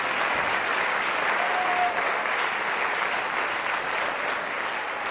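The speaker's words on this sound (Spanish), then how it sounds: "¡Un aplauso para la madre de Paco, para haberle parido!" Sustained applause from an audience at a night photography talk, a steady wash of many hands clapping at moderate volume without a break.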